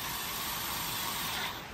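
A hand ratchet wrench cranks a fitting tight during a CP system install, giving a steady, close, continuous mechanical ratcheting that fades slightly at the end, with no talk.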